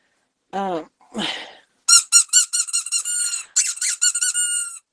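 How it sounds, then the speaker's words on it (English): A squeaky toy squeaks several times, starting with a few separate squeaks and then running into a quick series of short, loud, high-pitched bursts close by, with no talking. "Where's my squeaky toy?"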